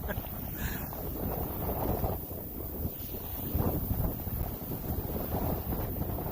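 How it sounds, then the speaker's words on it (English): Wind gusting outdoors on a snowy day, a steady broadband roar buffeting the microphone throughout, loud and close with no clear pauses. "Ooh, the wind picking up."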